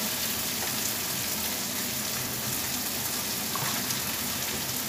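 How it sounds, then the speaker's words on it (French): Small tomatoes roasting in a frying pan alongside chicken thighs, giving off a steady, dense sizzle and crackle that stays even and unbroken throughout, with no voices. "Donc là, ça rôtit bien nos petites tomates."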